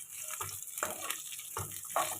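Eggplant sautéing with a little salt in a pan for a tamarind curry: a soft, continuous sizzle broken by a few stirring scrapes and clinks.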